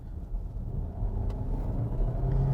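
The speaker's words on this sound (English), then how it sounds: "Let me try going from a slower speed and then accelerating from there." Kia Sorento PHEV SUV accelerates from about 40 km/h, heard from inside as a steady low engine and road rumble that swells slightly and holds, with a faint click midway.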